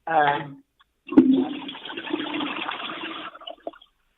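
A toilet flushes up close, a sudden gush followed by a steady rushing swirl of water that tapers off after a couple of seconds, preceded by a brief spoken voice.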